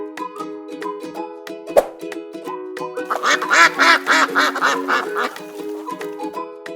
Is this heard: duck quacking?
yes